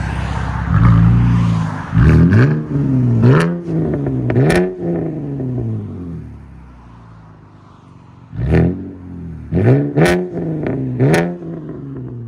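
A 2013 Cadillac ATS with a 3.6L V6 and an X pipe exhaust, revving up loudly in repeated bursts close by, with the engine dropping back to a quieter idle between them.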